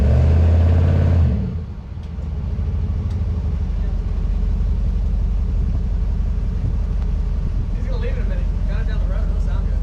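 A 2021 RAM 1500 Hemi pickup with a FlowMaster resonator-delete exhaust gives a deep, loud engine rumble, revs and then holds a steady throaty drone, with people talking over it.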